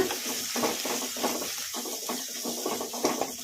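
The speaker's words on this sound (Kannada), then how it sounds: "ಈಗ ಇದಕ್ಕೆ ಉಳ್ಳಾಗಡ್ಡಿ ಹಾಕೋಣ ಕಲಸ್ಕೊಂಡ್ಬಿಡೋಣ" Onions being stir-fried with already-fried spices in a pan over a medium flame for cashew masala rice: a steady close sizzle with scraping and stirring sounds, and no talk.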